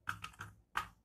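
Quiet clicks of a computer keyboard as a file name is typed, four separate keystrokes, close and soft, with no voices.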